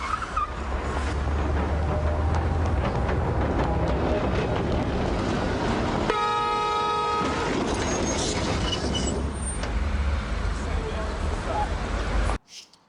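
Noisy film excerpt of a tram running someone over, with rumbling traffic, wind-like roar and a bright bell-like tone in the middle, a shout over the din, then abrupt silence at the end.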